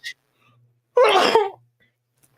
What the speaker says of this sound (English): I've been sneezing like crazy